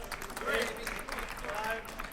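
Crowd at the 2011 US Table Tennis Championships women's singles semifinal clapping and cheering to urge on a player, a scattered burst of applause and shouts heard at moderate distance, with talk over it.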